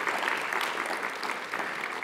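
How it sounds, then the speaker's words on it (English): Audience applause at an academic association's closing ceremony, a steady dense wash of clapping that holds at an even level for the whole stretch with no talk over it. "but a round of applause for those two for receiving their fellowships."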